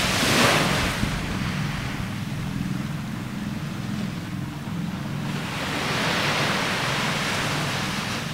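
Ocean waves washing onto 69 Beach in Hawaii, a continuous broad roar of surf with a gentle swell in loudness, heard alone without talk.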